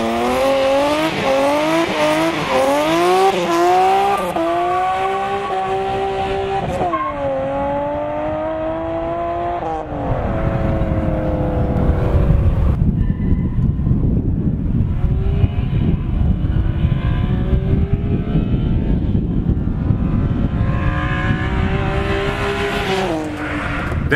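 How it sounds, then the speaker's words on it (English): A BMW E36 M3 six-cylinder engine revs repeatedly, pitch climbing and dropping through gear changes, loud and close, with tire squeal as it drives hard. "On the topic of great sounding six cylinders, we have to listen to Nick's E36 M3."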